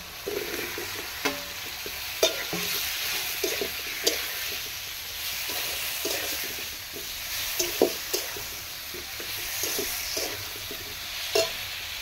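Fried pumpkin pieces are stirred in a pan over steady sizzling, with a spatula scraping and tapping at irregular intervals, close and moderately loud, with no talking.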